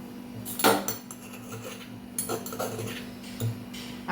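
A spoon works white sesame seeds into a thick date and tamarind chutney, making a few light clinks and scrapes against the bowl over a faint steady hum, close, quiet and with no talk.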